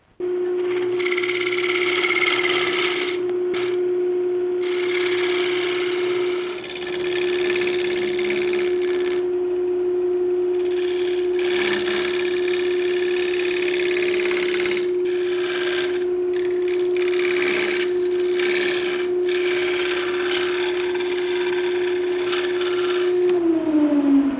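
A wood lathe spins steadily while a skew chisel cuts the turning workpiece, giving a loud continuous motor hum with bursts of scraping and hissing as the blade meets the wood.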